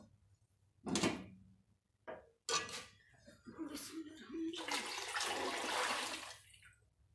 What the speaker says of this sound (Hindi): इसमें दो जग पानी डालेंगे,